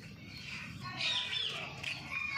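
A baby chick stuck and shut in somewhere chirps in thin, high peeps, fairly clear over a faint background rustle.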